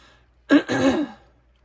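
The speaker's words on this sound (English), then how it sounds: "Clearing my throat." A single throat clearing from a person with a cold, close and fairly loud, in two quick gruff pushes with quiet before and after.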